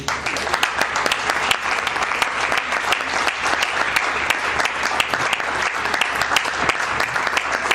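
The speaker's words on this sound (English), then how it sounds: "Don't stop clapping, put your hands together for home." Conference audience applauding steadily after a keynote speech, dense sustained clapping from many hands throughout, with no talk over it.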